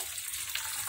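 Water is poured steadily into a bowl to soak peel-covered food overnight, a close, continuous gushing splash lasting under a second with no voices.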